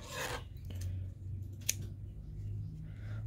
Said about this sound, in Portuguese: aí eu vou cortar o fio